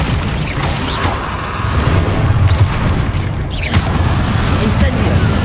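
Bombarda explosion spell going off in Hogwarts Legacy amid other combat spells, a sustained loud booming rumble with crashing bursts, heavy low-end throughout and sharp impacts near the end.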